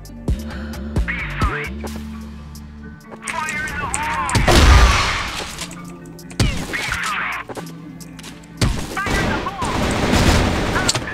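Video game gunfire, with bursts of shots and booming blasts layered over music and game effects, loud and close, coming in several waves.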